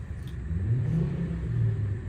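A 2007 Volvo S60 2.0T five-cylinder turbo saloon engine runs steadily at close range, a continuous low rumble with a slight swell in the middle and no rattles or clunks.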